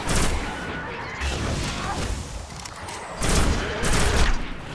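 Sustained volleys of pulse rifle gunfire in Destiny on Xbox One, loud and continuous with heavier surges, as combat sounds fill the scene and a faint voice sits underneath.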